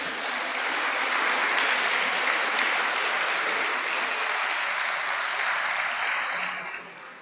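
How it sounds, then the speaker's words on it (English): Audience applause fills a hall at an awards ceremony in a town hall, steady and dense clapping from a large crowd, sustained loudly throughout before tapering slightly at the end, with no talking over it. "Please can we have a round of applause for James Binks."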